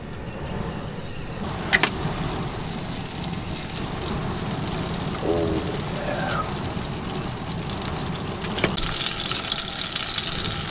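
A sirloin steak fries in a pan while being basted with butter and rosemary, a continuous soft sizzle with a few spoon clinks and brief scrapes over the top.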